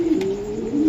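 A female racing pigeon gives a single soft, low cooing call, close and clear, alone without any talk.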